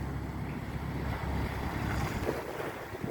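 Steady, loud wind roars across the microphone at sea alongside the rush of waves and a droning small fishing boat, continuous with no voices.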